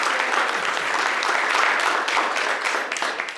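A church congregation at a holiday Sunday service gives a warm round of applause, dense and fairly close, sustained evenly before beginning to taper at the end.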